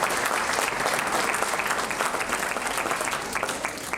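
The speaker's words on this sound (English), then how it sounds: "A big round of applause for all our sponsors and partners." Crowd applauding sponsors and partners at a corporate social event in Kolkata, thick sustained clapping from many hands, loud and continuous, fading slightly at the end.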